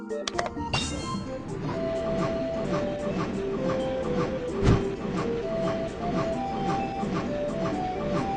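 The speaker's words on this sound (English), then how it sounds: "The train is about to turn." A cartoon train rolls along with a steady rhythmic clatter and faint tonal chimes, carrying on continuously at moderate volume.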